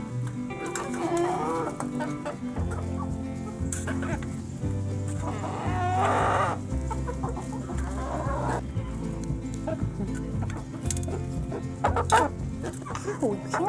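Chickens cluck in short, repeated, close-up bursts through the whole stretch, with occasional louder squawks and soft human talk mixed in.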